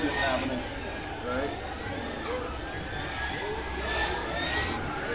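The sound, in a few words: Traxxas Slash RC cars racing on a track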